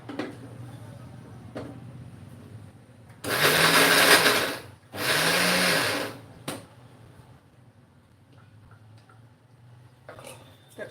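A mixer grinder briefly spins peanuts and jaggery for ladoos, with two loud whirring bursts of about a second and a half each, separated by a short pause, amid quiet kitchen handling.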